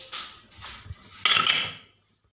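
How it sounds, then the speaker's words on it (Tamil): The metal lid of a pressure cooker goes on in a home kitchen, with a few close metallic clanks and scrapes and a louder clatter as it settles into place. "இப்போ குக்கர் மூடி போட்டு விசில் போட்டுடலாம்"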